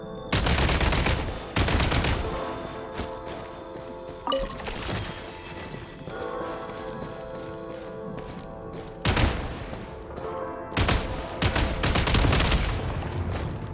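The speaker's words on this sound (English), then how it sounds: "Shoot the explosives to detonate them and clear the path." Explosives shot and detonated in a Genshin Impact snowy-wasteland quest, bursts of rapid gunfire and loud blasts in clusters with quieter mechanical game sounds and a ringing tone between them, no speech.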